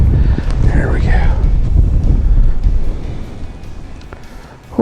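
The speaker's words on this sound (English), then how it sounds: "Oh, wind's nasty." Strong wind buffets the microphone out on the ice during a fishing trip, a loud rough roar that eases near the end, with a voice talking briefly over it.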